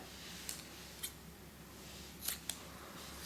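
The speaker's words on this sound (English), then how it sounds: "then I'll cut this yarn" Scissors snipping yarn during crochet work on a chunky slouch beanie, a few faint, sharp clicks in an otherwise quiet room.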